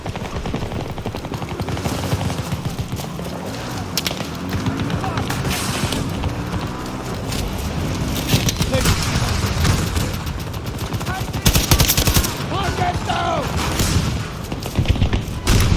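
Rapid gunfire from a rifle in the shooter game Battlefield 2042, with repeated bursts and shots running across the clip amid dense in-game battle noise, near and fairly loud.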